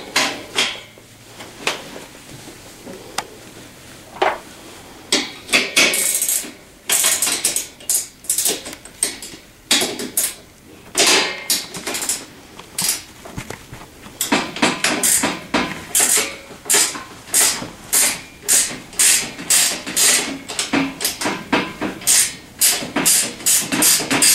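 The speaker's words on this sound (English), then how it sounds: "just take this nut off, and that's an 11/16 nut" An 11/16 nut comes off the front axle of a TaoTao CY50T3 scooter as a wrench ratchets close by, sparse clicks at first, then fast, regular clicking runs with metallic clinks between.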